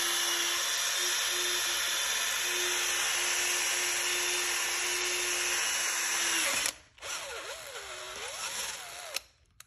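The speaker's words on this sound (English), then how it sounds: "So they have to drill it and tap it" A power drill bores a hole in the frame of a Honda CRF110 dirt bike. It gives a loud, steady high whine that cuts off, then returns at a rougher, shifting pitch before stopping.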